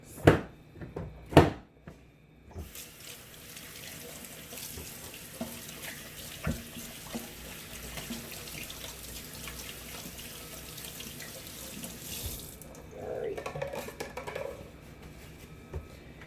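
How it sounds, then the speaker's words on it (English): A kitchen sink tap runs steadily as hands are washed, a continuous close splashing stream with a few clattering knocks at the start and a brief shift in the flow near the end. "Sorry, y'all know I touched something, got to wash my hands"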